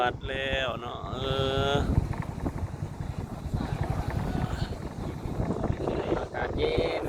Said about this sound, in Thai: ลมพัดเย็นดี